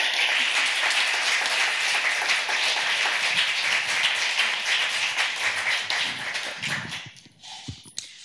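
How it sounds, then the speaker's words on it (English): Audience applause for panelists at a tech diversity discussion event, a dense steady wash of many hands clapping that thins and fades toward the end. "If we can give our panelists a round of applause"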